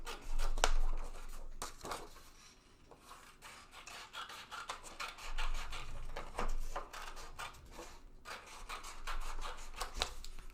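Paper being cut into semicircles for a collage, giving repeated scissor snips and rustling paper handling, close and fairly quiet, with no voices.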